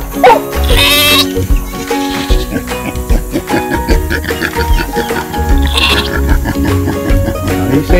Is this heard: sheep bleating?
yes